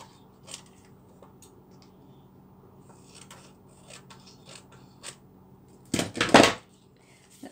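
Scissors snip through a paper journal page, a few faint scattered cuts followed by a louder burst of rapid snipping near the end, close and alone.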